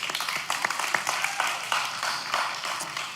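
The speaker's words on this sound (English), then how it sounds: "Give Miss Tasha some claps." An audience claps for Miss Tasha, with scattered, fairly faint hand claps spread across the whole stretch, some sharper individual claps standing out from the rest.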